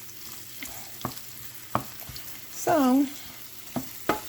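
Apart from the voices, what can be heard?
food frying in a pan before adding plant-based burgers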